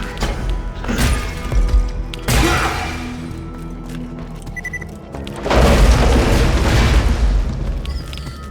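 Indirect-fire explosions in Borderlands 2, a few heavy booming blasts with rumbling, crackling tails, one near the start, another around two seconds in and a long, loud roll in the second half.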